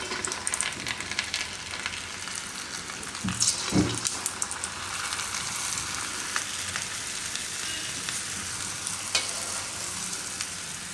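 Gujarati rotli na patra fry in hot oil on a low gas flame, giving a continuous close crackling sizzle with a few sharper pops and stirring clinks partway through.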